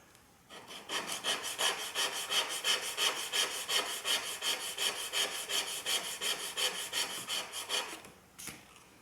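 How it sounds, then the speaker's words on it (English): A wooden kayak part is sanded with sharp sandpaper in a long, rhythmic run of close, even back-and-forth rasping strokes that stops near the end, followed by one brief scrape. "And this is where good sharp sandpaper works nicely."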